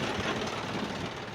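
A tractor engine runs at a steady idle-like chug with a low knocking rhythm, moderately close and fairly quiet, with no voices over it.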